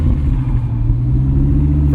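A 2004 Dodge Viper SRT-10 V10 sports car pulling away, its engine a loud, deep, steady rumble heard close from inside the car, with no talk.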